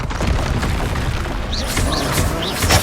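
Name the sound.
Descendo spell slamming an enemy down in the video game Hogwarts Legacy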